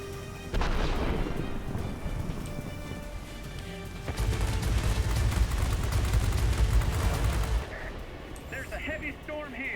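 Heavy thunderstorm in the flight game World of Warplanes, heard from an Fw 190 A-8/R2 fighter: a continuous rumbling roar of rain and thunder with deep booming swells over an engine drone.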